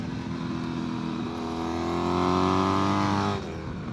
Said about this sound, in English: I'm behind a two-stroke right now